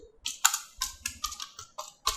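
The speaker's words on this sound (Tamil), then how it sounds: "ஆரஞ்சு அப்படின்னு டைப் பண்ணுறேன்." Brisk typing on a computer keyboard while coding, a run of close, crisp key clicks in uneven bursts with brief pauses, no voice.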